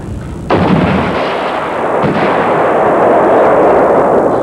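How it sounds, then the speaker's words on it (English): An Iraqi-made RPG-7 rocket-propelled grenade fires with a sudden heavy blast, followed by a second thump and a long, loud roar and rumble that carries on outdoors. "This airman is learning to fire an Iraqi-made rocket-propelled grenade"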